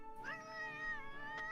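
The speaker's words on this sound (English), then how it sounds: "Now my cat's just talkative." A pet cat gives one drawn-out meow that bends in pitch, heard close and fairly soft with nothing else around it.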